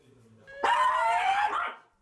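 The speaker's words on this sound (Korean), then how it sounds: "보호자 품에 안겨서도 으르렁대며 슬슬 시동 거는 녀석" A small dog held in its owner's arms gives a low growl that breaks into a single loud, drawn-out bark, close to the microphone and otherwise quiet.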